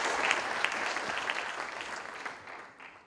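An audience at a Duke University keynote claps for the arriving speaker, a soft, even rush of many hands at moderate distance that gradually thins out and fades near the end.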